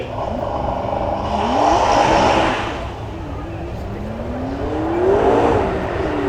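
Twin-turbo V8 McLaren supercar at a supercar weekend event, launching hard on launch control: a loud engine roar rising through gears with pitch sweeps, passing close by, then another surge further along.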